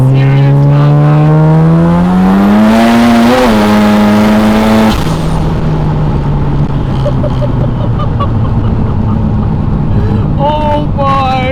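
A 730HP turbocharged 13B rotary Mazda RX7 FB accelerating hard, loud and close, its engine note climbing steeply through the gears before a shift and continued pull with turbo and exhaust noise.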